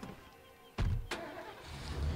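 A car engine starts up in the zombie survival game State of Decay, a sharp burst of cranking and ignition followed by a second surge, then a steady idle rumble that stays near and moderately loud.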